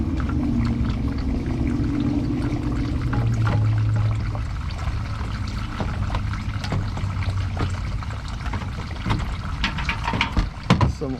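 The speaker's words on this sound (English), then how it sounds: "Some oil gonna drain out on the subframe" Used motor oil drains from a Honda V6 engine, some of it splashing onto the subframe, as a continuous, fairly loud pouring rush with a few small splashes toward the end.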